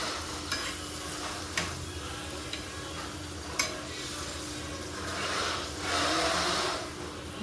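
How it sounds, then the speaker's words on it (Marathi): Thick palak paneer gravy is stirred in a pan, with soft scraping strokes and occasional clicks of the spoon against the pan over a low continuous sizzle, no talking. "असं हलवत राहायचं म्हणजे तो घट्ट होतो."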